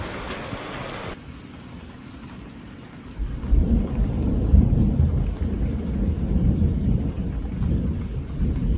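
Rain falls steadily on a homestead, and a deep rolling rumble of thunder swells in partway through and keeps growling under the constant patter, with no voices.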